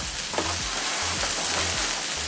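Onions and tomatoes fry in a pot with a steady, close sizzle and crackle, continuous and alone.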